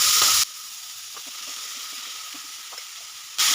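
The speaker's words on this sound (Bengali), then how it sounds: "চিকেন কিমাটা ফ্রাই করার জন্য আমি প্যানে দিয়ে দিচ্ছি অল্প তেল।" Chicken mince frying in a pan with a little oil, a steady even sizzle and hiss running alone between brief louder bursts at the start and end.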